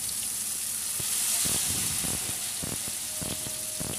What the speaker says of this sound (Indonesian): Nah, goreng kembali semuanya sampai habis